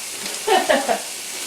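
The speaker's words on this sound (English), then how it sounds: "So we go ahead and fry this until the green peppers are soft." Chopped onion and green peppers fry in a pan for low-FODMAP Spanish rice, giving a steady soft sizzle with three quick louder bursts from stirring, heard close.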